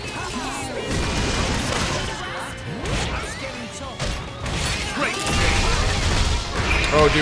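Combat explosions and smashing impacts from the Xenoblade Chronicles 2 video game, with dense crashes, whooshes and booms layered with game music and effects, loud and continuous, with a voice talking over the action.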